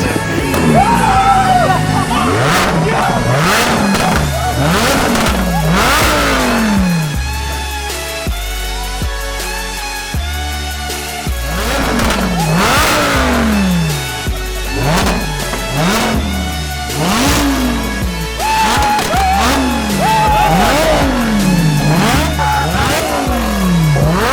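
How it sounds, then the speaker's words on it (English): A carbon fiber Lamborghini engine revs repeatedly in loud, rising and falling bursts, close by, with a throaty roar between pulls and a crowd cheering and shouting in the background. "Shaw and Zane have gifted me a carbon fiber Lamborghini."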